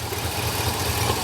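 A 1966 Cadillac Eldorado's engine idles steadily and evenly, a close low rumble with a smooth, continuous drone and no voices.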